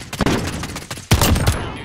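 Rapid gunfire from the Call of Duty Warzone video game rattles in dense bursts, with a louder volley in the second half that fades out near the end.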